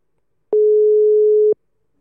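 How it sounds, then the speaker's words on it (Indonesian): A single steady electronic telephone tone sounds for about one second, clean and alone, then stops. "Nah sekarang gue bakal langsung telepon Meli."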